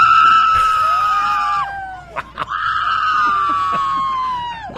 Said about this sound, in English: the crowd going bonkers.